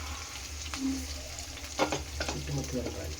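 Washed rice tipped into a pan of fried onions for chicken pulao, hissing with a steady sizzle while a spoon stirs and scrapes through it in several short strokes.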